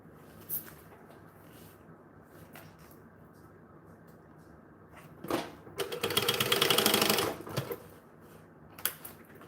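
A domestic sewing machine bastes a handle onto fabric: quiet handling and faint clicks, then a rapid mechanical stitching run of about two seconds, close and alone, followed by a few light taps.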